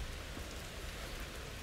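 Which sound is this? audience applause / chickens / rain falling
rain falling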